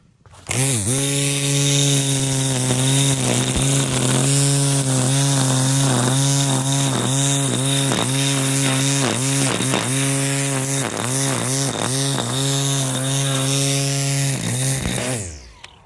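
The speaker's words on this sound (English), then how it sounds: "So I'm going to give this weed whacker a try and see how well it does." A battery-powered electric weed whacker runs continuously, its loud, close, high buzzing whine dipping repeatedly in pitch as the line bites into growth, then it winds down at the end.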